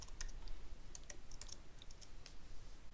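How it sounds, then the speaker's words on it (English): Quick, light keystrokes on a computer keyboard as a username is entered, a sparse run of soft clicks at close range in a quiet room. "I'm going to type in my username there."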